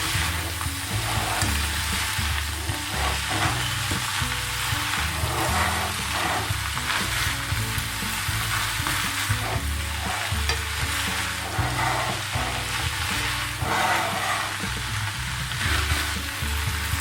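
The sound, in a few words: potatoes cooking and stirring in a pan for lamb samosa filling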